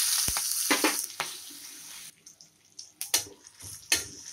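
Asafoetida, mustard seeds, cumin and green chilies sizzling in hot oil for a Gujarati fenugreek-leaf and eggplant curry, a loud crackling hiss at first that drops off, then scattered pops and bursts of spatter.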